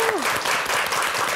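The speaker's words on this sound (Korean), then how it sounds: "그분들을 위해서 우리가 박수 한번 칩시다." Studio audience applause in a Korean morning talk-show studio, a dense steady wash of clapping that fills the short clip at even loudness.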